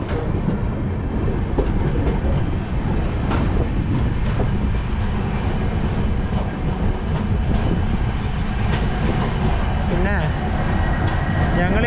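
Loud, constant rumble of the Netravati Express rolling along the rails, heard from inside a sleeper-class coach, with faint wheel clatter and occasional voices beneath the din.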